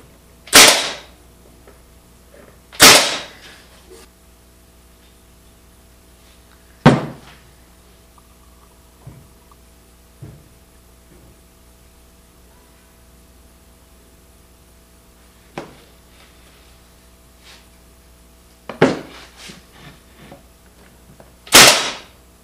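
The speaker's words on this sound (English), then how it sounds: "I'm gonna shoot a couple nails in. I like this Milwaukee Fuel finish nailer." A Milwaukee Fuel cordless finish nailer fires several nails into workbench wood, each a sharp, loud snap with a short thunk, spaced irregularly with quiet gaps between shots.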